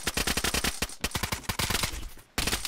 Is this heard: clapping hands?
no